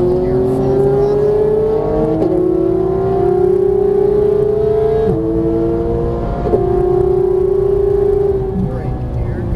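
A GT3 race car engine howls at full throttle, climbing steadily in pitch with sharp upshifts every couple of seconds, loud and close throughout as if from onboard.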